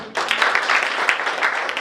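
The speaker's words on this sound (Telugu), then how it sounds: "Please Bigg claps." An audience claps at a real estate developer's lucky draw event, giving steady applause of dense, close hand claps that keep going for a couple of seconds.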